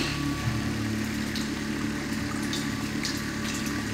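Water runs steadily through a ClearSource Ultra RV water filter into a jug, a constant even rush with a low pump-like hum beneath, close and moderately quiet with no talking.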